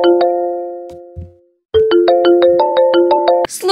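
A cheerful electronic phone ringtone from the life-simulation game The Sims 3, a short opening chime, a pause, then a steady repeating melodic ring pattern that plays loudly and cuts off near the end.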